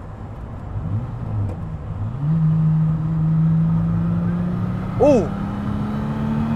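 Venturi LM260 turbo engine running while driving, a steady low drone that swells as the car accelerates, with a sharp rising whistle-like turbo note near the end; a voice briefly exclaims over it.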